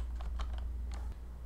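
Quick keystrokes on a computer keyboard while entering a folder name, a short burst of about half a dozen close, light clicks over a low steady hum.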